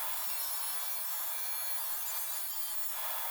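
A hand saw cuts a notch in a wooden clamp for a workbench leg vise, giving a steady, even rasping close by with no talk.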